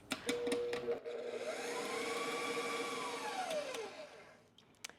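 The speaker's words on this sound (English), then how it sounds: "So on to medium high in the mixer, and it's just gonna sit here and mix for 10, 15, 20 minutes." A stand mixer runs on medium high kneading focaccia dough, a steady motor whine whose pitch sweeps up and back down as it spins, with a few clicks at the start, moderately close.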